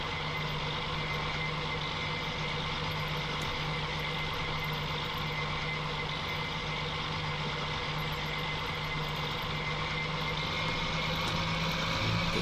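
A John Deere 40 Series tractor in Farming Simulator 19 drones at a steady engine pitch with a constant high transmission whine layered on top, loud and unbroken throughout.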